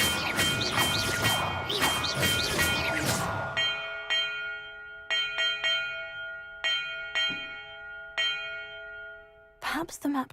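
Bells are struck in a video game quest, starting with a dense ringing clash, then a series of single clear metallic strikes that each leave a long sustained tone, with a final sharp hit at the end.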